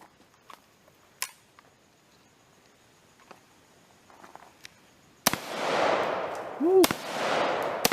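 Gunfire at an outdoor shooting range: after quiet with faint clicks, a sharp nearby shot is followed by a loud, booming blast that echoes and rolls away, then a second heavy report with a long ringing tail.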